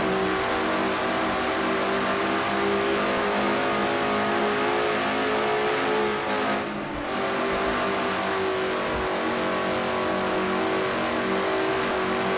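An in-car view of the Quaker State Ford stock car in a NASCAR-style racing video game at Dover, its engine droning loud and steady at high revs with a brief dip mid-way, no speech.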